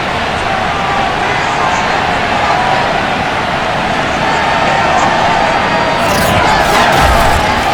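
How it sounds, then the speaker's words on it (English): A sold-out stadium crowd roars continuously in Madden NFL 22 before a Buffalo Bills versus Denver Broncos game, a loud, dense wash of cheering that holds steady and swells slightly near the end. "a moment ago they entered to the delight of this sold-out crowd"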